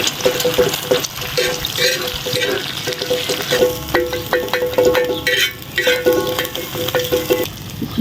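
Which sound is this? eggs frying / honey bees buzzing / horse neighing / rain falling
eggs frying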